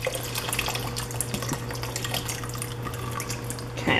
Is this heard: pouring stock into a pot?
yes